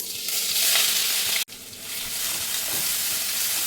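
A paste of cumin, green chili and ginger sizzles in hot tempering oil, a bright steady hiss that briefly drops out partway and then returns.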